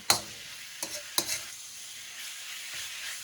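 A metal spoon stirs a Bami Goreng stir fry in a hot pan, giving three sharp scraping clanks against the pan over a steady soft sizzle that continues on its own.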